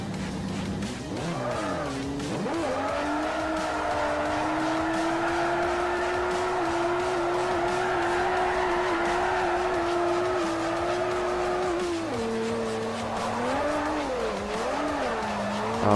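A Nissan S14 in the Forza Motorsport 4 racing game drifts sideways on the handbrake: a steady, loud engine drone with squealing tires runs almost unbroken for sixteen seconds, dipping briefly near the end.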